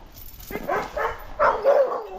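Several dogs being fed make short, close barks and yips, with whimpering in between, in uneven bursts that grow louder toward the end.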